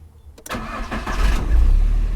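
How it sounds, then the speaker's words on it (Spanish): Close and loud, a car's starter motor whirs briefly as it cranks the engine, which then catches and settles into a low rumbling run. "Es el primer sonido que hace el motor antes de arrancar el carro."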